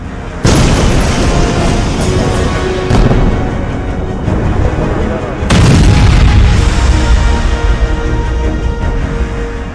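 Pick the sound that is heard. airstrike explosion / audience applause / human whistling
airstrike explosion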